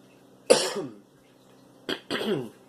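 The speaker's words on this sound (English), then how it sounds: "trying to clear my throat" A throat clearing rings out once, then after a pause comes a short catch and a second, longer rasping throat clear, close and fairly loud.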